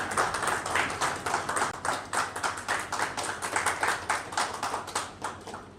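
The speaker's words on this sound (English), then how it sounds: "A big round of applause," Audience applause at an HR leaders' roundtable in Ahmedabad, a steady, fairly close patter of many hands clapping with a slight rhythmic pulse throughout, no voices on top.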